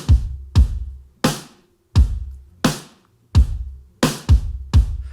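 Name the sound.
drum recording with live snare plus snare sample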